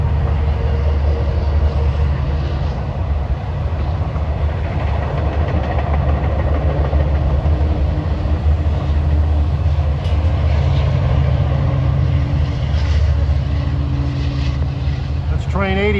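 Train 8057 passing eastbound on the central branch, a steady heavy low rumble and engine drone sustained throughout, with faint squeals near the end.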